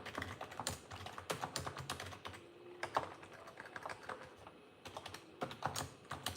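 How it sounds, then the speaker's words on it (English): Steady, quick clicking of keys on a computer keyboard, irregular bursts of typing with a brief pause midway, close and fairly quiet, no voices. "I'm typing it in the chat"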